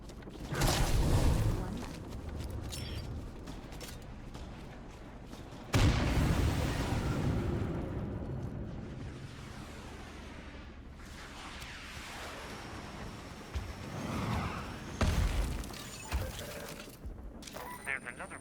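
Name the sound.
airstrike explosions in the video game Daybreak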